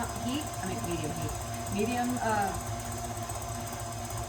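An electric mixer beats egg whites to soft peaks for an angel food cake, giving a steady motor whine and whir while a person talks over it.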